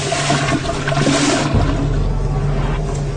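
A toilet flushes loudly and close by, a surging rush of water that swirls and gurgles for several seconds, with no voices over it.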